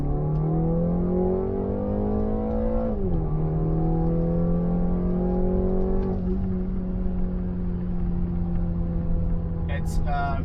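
From inside a BMW G20 330i, the engine climbs in pitch through the gears under hard throttle. A clear drop in revs marks each upshift, a steady loud drone fills the cabin, and a brief chime is heard at the very end.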